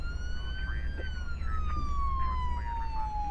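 A police siren in the emergency-services video game Flashing Lights wails in a slow rising and falling tone, steady and fairly loud under a low engine hum, with faint voices in the background.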